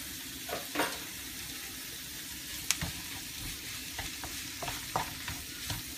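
Vegetables coated in Tikka paste sweat in a pan, giving a soft, steady low sizzle broken by irregular scraping and clacking stirs from a utensil, fairly quiet and close with no talking.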